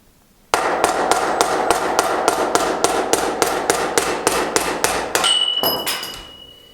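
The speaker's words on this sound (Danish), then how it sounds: "Så tager vi en hammer fra den anden side," Steady series of about sixteen sharp hammer blows driving a Pressfit bottom bracket out of a bicycle frame with a removal tool, evenly spaced and loud, ending with a few ringing metallic clinks as the part comes free.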